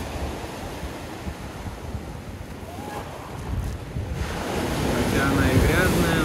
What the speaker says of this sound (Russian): дует легкий ветерок, море волнуется